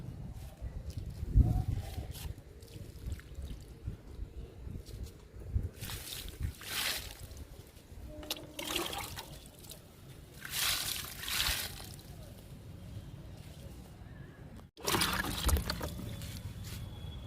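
Liquid fertilizer is poured from a small measure onto potted flowering vinca plants in summer, giving several faint, short bursts of trickling and splashing against a quiet background.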